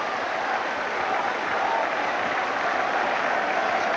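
A Hull Kingston Rovers rugby league crowd roaring after a try in a match against Leigh: a broad, steady wash of cheering and applause from a big stadium audience, holding at an even level throughout.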